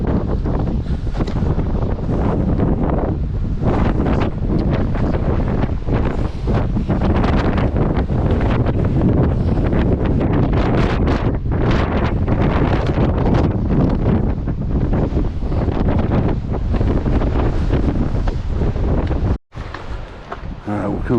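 A strong wind storm roars across an exposed mountainside on a hiking trail, buffeting the microphone in a loud, continuous rumble with gusting surges and a brief drop near the end; a voice talks at times.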